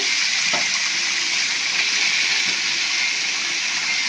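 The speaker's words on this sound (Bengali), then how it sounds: "এখন আমরা মাছগুলো দিয়ে দিব।" Fish dropped into a pan of hot oil with fried garlic, giving a steady, loud, dense sizzle that holds evenly throughout with a few faint pops.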